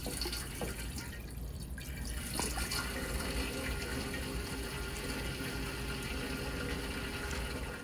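Fuel being poured into a 1928 Ford Model A, a continuous trickling, splashing flow of liquid with brief gurgles, heard close and moderately faint.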